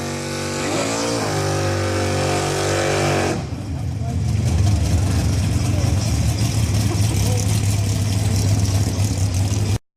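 A metallic bronze Renault 5 Turbo 2 runs at a track event, its engine first revving with rising pitch, then settling into a steady idle-like drone while someone talks over it.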